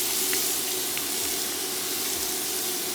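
Carrots, onions and garlic frying in butter and oil in a pan, giving a steady, close sizzle with faint crackles throughout and no talking.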